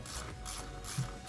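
A ratchet clicks in quick bursts, tightening bolts on the vapor canister purge valve of a 2020-2024 Ford Escape ST-Line 1.5L. The close, crisp pawl ticks repeat several times with no talking.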